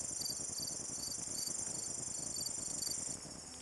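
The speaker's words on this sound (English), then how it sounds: "Insects." Crickets chirp steadily and densely in the background near a creek at a fishing area, a continuous high insect trill with no other sounds.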